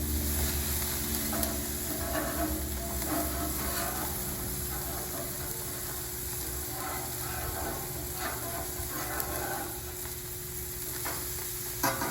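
Frozen burgers sizzle on a grill in a steady, even hiss that holds for several seconds, with faint scrapes and stirring-like rustles mixed in and no talk.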